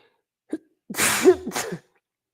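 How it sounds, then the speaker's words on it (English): A single close sneeze, preceded by a short sharp inhale and ending in a brief trailing breath. "I am sneezing."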